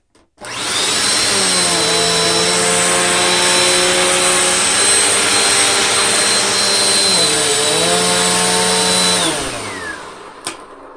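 A Bissell Powerforce Compact upright vacuum cleaning a carpet edge sprinkled with sand and baking soda: a loud, close, steady motor whine that holds for about nine seconds, shifts pitch slightly midway, then spins down.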